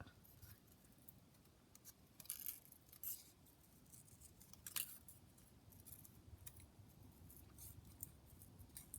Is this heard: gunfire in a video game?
no